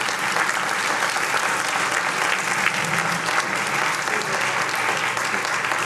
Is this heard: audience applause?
yes